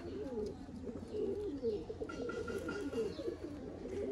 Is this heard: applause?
no